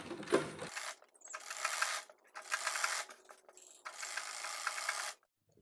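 A sewing machine runs a straight seam along a sleeve in four quick bursts, each a close, rapid mechanical chatter lasting about a second, separated by short silences with no talking.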